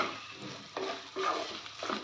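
Boiling water poured into a pot of hot oil for Maharashtrian masale bhat, giving a steady broad sizzling hiss that swells into two louder splashing surges midway.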